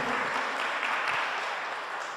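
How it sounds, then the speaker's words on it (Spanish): An audience gives applause to Sister Ana María at a Spanish-language church gathering, a dense, even wash of many hands clapping that stays steady and moderately loud for about two seconds, with no talking. "otro aplauso para la hermana Ana María"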